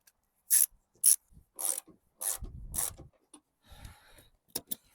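A socket ratchet wrench turns a bolt on a car under repair. Several short, crisp bursts of ratcheting clicks come close up with pauses between them, and some faint rubbing and mechanical clatter sit in between.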